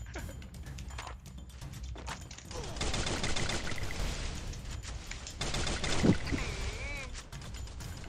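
Free Fire gunfire during a one-on-one match: rattling bursts of automatic shots at moderate loudness, with a voice talking over them and a sharp crack near the end.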